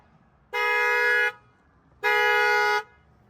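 Two long, steady blasts from a Honda car horn sounding on its own, each under a second, caused by a shorted CAN B network, loud and close with a short pause between them.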